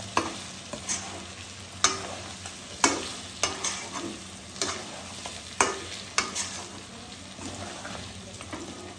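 Mutton kosha stir-frying in oil in a pan, with a spatula scraping and stirring in repeated strokes about once a second over a steady sizzle, close and clear, no voices.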